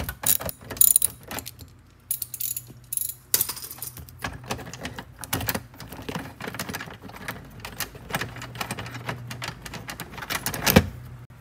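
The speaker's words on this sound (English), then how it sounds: "what we have here is a T30. We'll just ratchet this guy out" A hand ratchet clicks in quick bursts, pausing and resuming, as a T30 Torx fastener is backed out of a Ford Escape door panel; the clatter sounds close and fairly quiet, and a louder metallic clink comes near the end.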